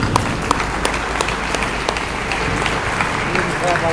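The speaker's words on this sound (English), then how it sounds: "What I want you to do is clap like crazy" An audience claps hard and continuously, a dense patter of many hands held at a steady level for a few seconds, with a few sharper individual claps standing out.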